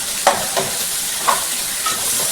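Okra cooking in oil in a pan, a steady close sizzle broken by a few soft scraping stirs.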